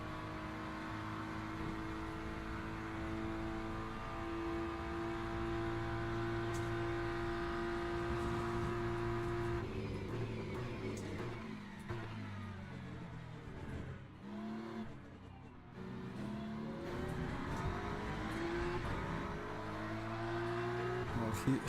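Race car engines, including a McLaren, droning and shifting pitch around Monza in the racing game Le Mans Ultimate, a continuous engine whine that rises and falls, with occasional passing cars.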